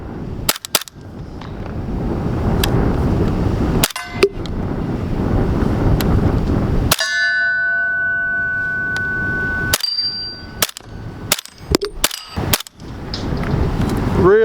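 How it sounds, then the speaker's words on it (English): A 7.62 rifle fired through an Exigent Defense Overwatch suppressor outdoors, with several sharp muffled cracks spaced seconds apart over steady wind noise. "Really nice. Really quiet shot."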